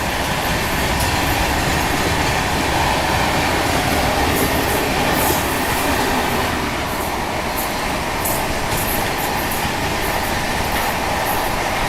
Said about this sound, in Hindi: ये देखो बैक टू बैक पैरेलल चल रहा है यहाँ पर मालगाड़ी के साथ।